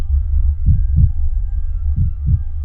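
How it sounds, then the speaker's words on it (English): A pounding heartbeat sound effect in an audio story, two pairs of deep, thudding lub-dub beats over a low steady hum, close and heavy with no talking. "my own heartbeat pounding underneath it all."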